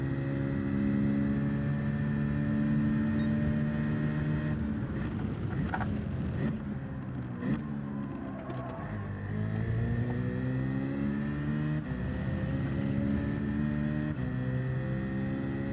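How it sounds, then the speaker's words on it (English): Group 3 Renault race car engine, a mid-engine car in Gran Turismo 7, drones steadily at high revs, shifting pitch with gear changes and throttle lifts, loud and continuous throughout. "That's a Renault. That's the Group 3 Renault."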